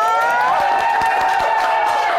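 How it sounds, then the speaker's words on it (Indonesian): A large live studio crowd of about 3,000 at JCC claps and cheers steadily, a loud dense wash of applause with a sustained cheering tone throughout. "Tepuk tangan dulu dong."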